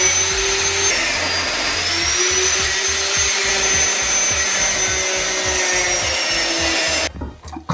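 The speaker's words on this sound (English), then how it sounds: "Cutting through this with a hacksaw, what was I thinking?" A hacksaw cuts through a seized bolt on a Golf GTI under restoration, a steady loud rasping stroke that continues without pause for about seven seconds before stopping abruptly, with no voices.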